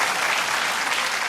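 Brief burst of dense clapping from a television studio audience on a talk show, loud and continuous for just over a second.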